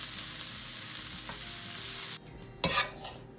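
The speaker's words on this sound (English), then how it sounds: "I'm gonna add the red pepper and keep sauteing for another few minutes" Onions and red pepper sautéing in a pan, a close, continuous sizzle with stirring scrapes, then a sudden drop in level followed by a short burst of sizzling and stirring.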